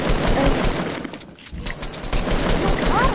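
Rapid video-game gunfire from a Fortnite squads match crackles in dense, continuous bursts, loud and close, with a brief lull midway before the shooting resumes.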